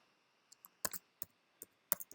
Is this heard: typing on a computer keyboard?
yes